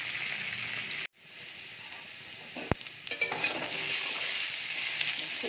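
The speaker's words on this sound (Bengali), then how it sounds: "ফুলকপির তরকারির আলুটাও ভাজা হয়ে গেছে, এবারে তুলে নেব।" Potatoes for a cauliflower curry fry in hot oil in a pan, a continuous bright sizzle that briefly cuts out, then returns with stirring scrapes and a sharp clink before the frying hiss swells again.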